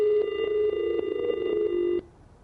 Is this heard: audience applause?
no